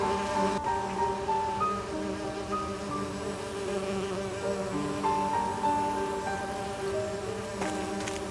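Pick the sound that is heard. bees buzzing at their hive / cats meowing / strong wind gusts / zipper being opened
bees buzzing at their hive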